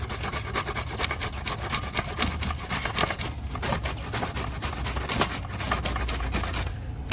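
Raw mangoes are shredded on a grater machine, giving a loud, continuous, rapid rasping scrape with a steady rhythmic rub throughout.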